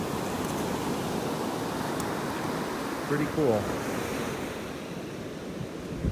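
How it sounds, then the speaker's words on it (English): Ocean waves roll steadily onto a beach in North Naples, Florida, a continuous broadband wash of surf with wind buffeting the microphone, while someone speaks briefly midway. "You see how the waves just roll in here and kind of mix everything up?"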